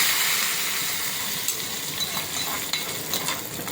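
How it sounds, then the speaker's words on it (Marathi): Hot tadka tempering hits tomato chutney with a loud, steady sizzle and hiss that fades slowly, broken by a few faint clinks, close up with no voices. "आपण ही तडका या चटणीमध्ये घालूया"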